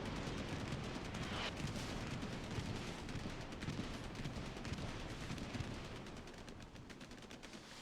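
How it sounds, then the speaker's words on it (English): Explosions from a bombing run in a competitive video game match form a dense, continuous rumble of blasts and crackling fire, loud and unbroken throughout. "And that bombing run did not get much."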